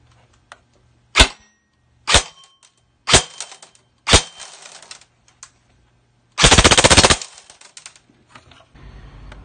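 A stock airsoft gun with a stock motor on an 11.1 volt battery fires a few sharp single shots, then one loud rapid full-auto burst, followed by quieter clicks and handling noise.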